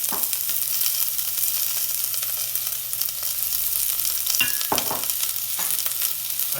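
Onions frying in a preheated pan for chorizo cazuela, a steady close sizzle with a few brief stirring scrapes and clatters, no talk.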